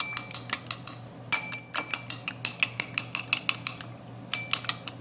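Goat biryani being mixed in a metal pot, a steady run of sharp utensil clinks and scrapes against the pot at an even rhythm, close and clear, with no talking.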